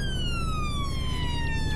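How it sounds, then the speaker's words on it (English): A wailing ambulance siren in a roleplay video game, loud and close with a steady falling tone sweep over a low engine drone, heard alone. "I'm gonna turn off the sirens"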